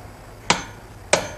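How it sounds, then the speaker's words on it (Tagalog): A hammer strikes a damaged stud bolt on a vehicle: two sharp metallic hits about half a second apart, close and loud, with no talk. "So kumuha ka ng martilyo, pukpukin mo lang yan."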